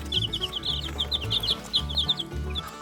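Chickens in a poultry pen cluck and chirp steadily and close, with several birds overlapping over a busy rumbling background and no talking.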